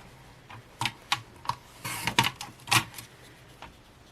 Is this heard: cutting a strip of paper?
yes